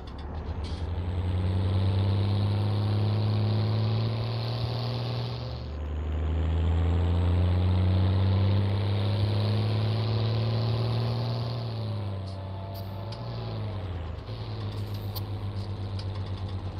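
Steady tractor engine drones loudly in Farming Simulator 19 on a Nordermarsch farm map, its pitch dipping and rising as the machine drives up and down a field, with brief clunks near the end.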